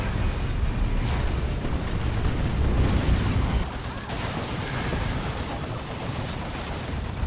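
Bombing run explosions in Dawn of War II: a dense, continuous roar of blasts and rumbling booms, loud and sustained, easing slightly after a few seconds.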